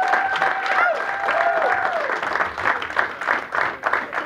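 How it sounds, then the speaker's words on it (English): Audience applause for comedian Tom Myers at a benefit show, a steady wash of clapping with a few cheers that runs the whole stretch, while a host's voice carries over the first half. "Start clapping right now."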